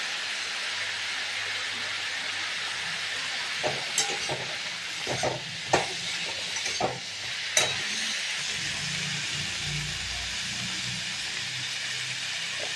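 Fish curry with potatoes and radish sautéed with salt and turmeric in a pan, a continuous soft sizzle with a few sharp utensil scrapes and taps in the middle.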